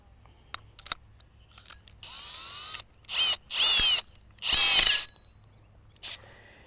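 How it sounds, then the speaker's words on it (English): A power drill bores a hole through the flush side of a plastic rain barrel, sounding in several short whining bursts of a second or so each, separated by pauses, close and fairly loud. "we're going to drill the hole in the side of the barrel for the threaded PVC piece to fit out of."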